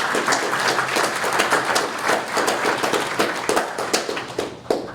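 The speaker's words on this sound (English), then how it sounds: "Let's give Emmanuel a round of applause." Audience applause for a newly elected student government president at a college cabinet meeting, a steady dense wash of many hands clapping close by for about five seconds.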